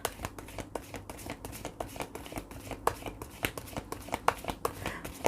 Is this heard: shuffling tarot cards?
yes